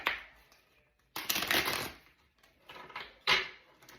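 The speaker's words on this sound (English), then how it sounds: "Okay, I'm going to shuffle them again." Cards being shuffled close by: a soft riffle, then a loud dense burst of flapping cards, followed by a couple of shorter riffles.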